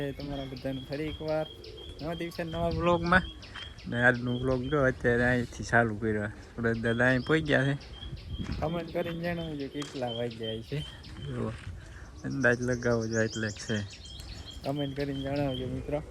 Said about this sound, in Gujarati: ચકલા પક્ષીઓ બોલે છે